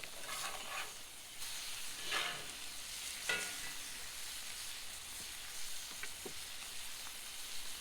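Butter sizzles in a hot pan with a soft, steady hiss, broken by a few brief crackles and stirring scrapes, fairly quiet and with no voices.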